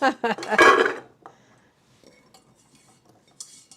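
Pots and a kettle clank and clatter on a stovetop burner while a family cooks pork chops, carrots and mashed potatoes, a loud burst of metallic rattling at first, then scattered softer knocks and a bright clink near the end.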